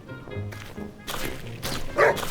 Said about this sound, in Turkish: köpek sen ne bağırdın?